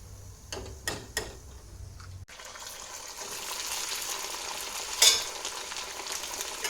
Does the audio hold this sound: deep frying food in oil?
yes